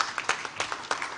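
A brief, light round of applause at the 15th Abuja International Housing Show, sparse claps coming in small irregular bursts at moderate distance, fairly quiet overall.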